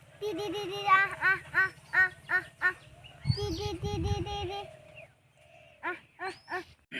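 Farmyard ducks quacking in repeated loud nasal bursts, several calls in a row with short pauses, close by, with a person calling out in between.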